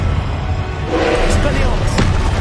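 A Confringo blast curse goes off in Hogwarts Legacy, a loud booming impact with a couple of sharp bursts over a dense, rumbling game soundscape.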